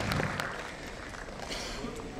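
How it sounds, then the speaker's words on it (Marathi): Audience applause for the people of Thane at a 50th anniversary event of a local daily, a dense steady patter of clapping hands filling the whole short stretch at moderate loudness. "एकदा जोरदार टाळ्या आपल्या सर्व ठाणेकरांसाठी"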